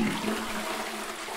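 A toilet flushes in the Strange Toilet video game, a short rushing gush of water heard alone at moderate volume.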